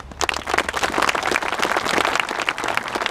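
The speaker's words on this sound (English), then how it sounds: "let's give them veterans a round of applause" An audience claps steadily for veterans at an outdoor Gold Star memorial dedication ceremony, a dense patter of many hands for a few seconds, moderately close, with no talking.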